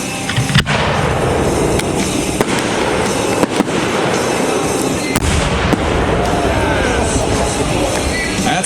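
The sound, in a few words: 8-inch aerial firework shell from Freedom exploding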